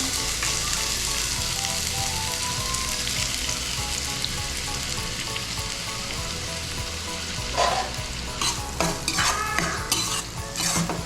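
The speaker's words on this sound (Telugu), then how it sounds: "ఇది కొంచెం గోల్డెన్ బ్రౌన్ వచ్చేదాకా కొంచెం ఫ్రై చేయాలి" Chopped onions fry in hot oil for a fish curry, a dense steady sizzle with stirring scrapes and clinks of a utensil against the pan building toward the end, close and without voices.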